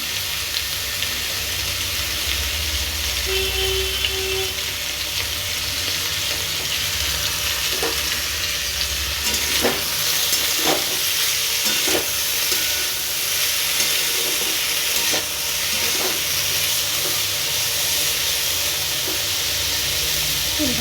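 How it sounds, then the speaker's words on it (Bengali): Potatoes and onions sizzle loudly in hot oil while being stirred, with a constant frying hiss broken by repeated scraping and clattering strokes of the spoon, close up. "এখানে তেল প্রথমে গরম হতে দিয়ে দিয়েছিলাম তো তারপরে এখানে আমি আলু পেঁয়াজগুলো ছেড়ে দিচ্ছি"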